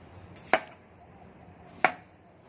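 A knife chopping pumpkin into thick pieces, two sharp isolated chops about a second apart on a quiet background.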